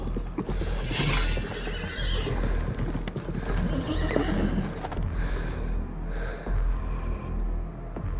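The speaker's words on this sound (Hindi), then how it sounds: "उसने अपना घोड़ा आगे बढ़ाया" Sound effect for an audio drama: a horse whinnies loudly near the start, then hooves clop on and on under a low rumble as the animal moves forward.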